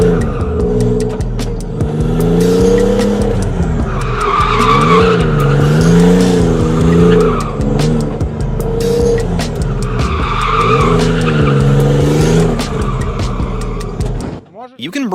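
A car drifts under handbrake and heavy throttle, its engine revving up and down as the tires squeal in long repeated skids, loud and close, with a voice talking over it.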